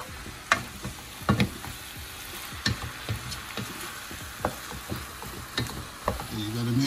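Lasagna meat frying in a pan as seasoning is stirred in: a run of close, sharp spoon scrapes and knocks against the pan over continuous sizzling, irregular and fairly loud.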